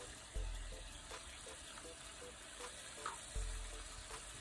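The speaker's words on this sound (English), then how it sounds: "Stir through, then continue frying until the oil starts to separate" Chili powder and spices fry in oil in a balti pan with a steady close sizzle, broken by periodic scraping stirs and a couple of dull knocks of the utensil against the pan.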